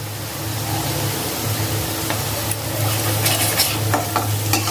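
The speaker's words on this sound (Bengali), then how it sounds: "ভালো করে নাড়াচাড়া করে মশলাটা ভুনে নিব" Spice paste with cumin powder and salt stirred and roasted in a pan for a green banana and rui fish curry, giving a steady close sizzle with scraping stirs throughout, no talking.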